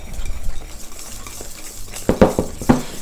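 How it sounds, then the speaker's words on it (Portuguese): A spoon stirs thick blueberry brigadeiro in a hot pan, with soft scraping and a few sharper clinks against the metal near the end. "Continuo mexendo mais um pouco, porque a minha panela continua bem quente ainda."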